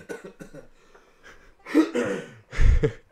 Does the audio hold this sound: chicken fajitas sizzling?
no